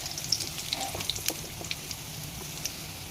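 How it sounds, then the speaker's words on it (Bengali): Fish fingers fry in oil, a quiet sizzle dotted with scattered small pops and crackles. "এগুলো এবার আমি লাল লাল করে ভেজে নিচ্ছি।"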